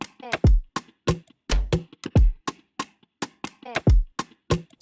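A chopped vocal sample rides over a trap drum pattern in a beat, with crisp percussive hits and deep sliding 808 kicks in a steady, looping rhythm.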